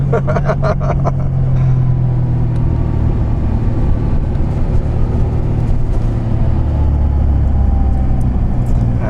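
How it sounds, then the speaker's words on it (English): A Wiesmann MF5 Roadster's BMW S85 V10 engine hums steadily throughout, a low continuous rumble heard from inside the car, with a few brief clicks early on. "it's a lovely sound inside the cars also of the engine"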